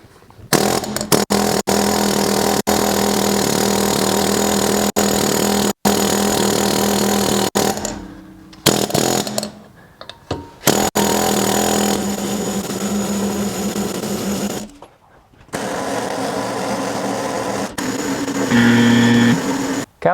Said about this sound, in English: Let's try the air hammer and see if that works any better.